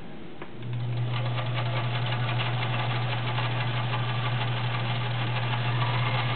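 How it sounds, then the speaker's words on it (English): A vintage 1970s Kenmore model 1560 convertible sewing machine starts up and runs at a steady, even speed, a close continuous motor hum with rapid needle clatter sustained for several seconds, with no voices. "I'm going to sew a few things so you understand that you are getting a serviced working machine."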